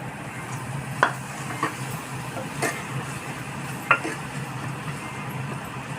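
Tomatoes hit a pan of frying goat intestine (boti) curry, giving a low continuous sizzle with a few sharp spoon clinks against the pot, close and moderately loud, with no talking.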